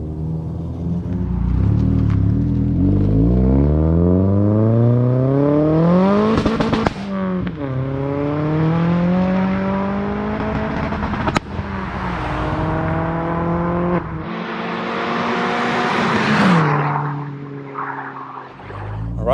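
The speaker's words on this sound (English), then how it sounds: "a couple of little snippets of car on, you know, throttle and stuff, and a few exhaust clips" Forged 400 bhp Vauxhall Astra VXR loud and close, its exhaust rising and falling through several throttle blips and pulls, with crackles between revs and no talking.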